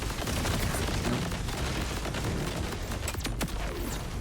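Gunfire in the shooter game Borderlands, a dense, loud barrage of shots and booms with no break, with a few sharper cracks standing out near the end.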